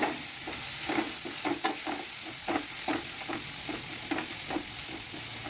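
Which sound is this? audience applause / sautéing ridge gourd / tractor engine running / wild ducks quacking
sautéing ridge gourd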